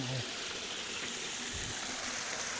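A natural waterfall and stream rush in a steady, unbroken wash of water noise that fills the whole moment at a constant level.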